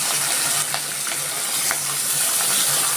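Five-spice, bay leaf, green chilli and chopped onion sizzle in hot oil for a Bengali dish, a loud steady frying hiss with small crackles and the occasional stir or clink, and no voices.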